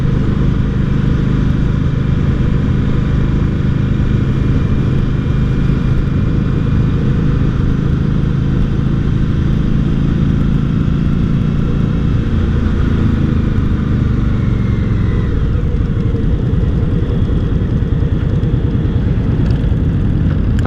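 An Indian Scout 60 cruiser motorcycle rides along with a loud, continuous engine drone and heavy wind rush, steady throughout with a slight shift in pitch near the end.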